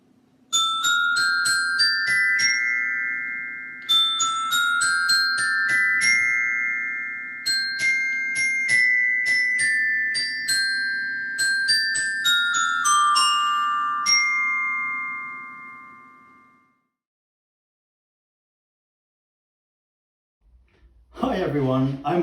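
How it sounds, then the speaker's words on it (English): A glockenspiel plays a familiar tune as a run of bright, ringing struck notes that sustain and overlap for about fifteen seconds, then fade into silence before a voice begins to speak at the very end. "Here is a tune you may know."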